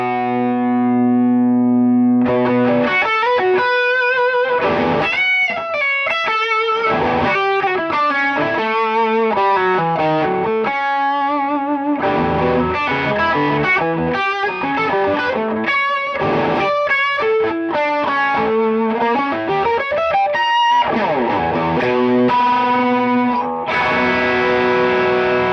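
An electric guitar plays through an effects pedal stacked with a Jan Ray overdrive. Sustained, overdriven chords and single notes ring out with short pauses between phrases, clear and close, with no talk.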